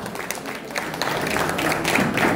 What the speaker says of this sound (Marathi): जोरदार टाळ्या वाजत राहिल्या पाहिजे.